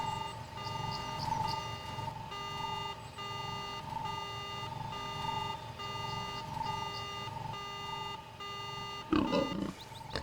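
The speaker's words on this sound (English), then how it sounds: "Why don't we set his alarm? And then he'll come running out" A repeating electronic alarm from the Star Wars role-playing game Knights of the Old Republic cycles in steady beeping tones for about ten seconds, with a short clattering burst near the end.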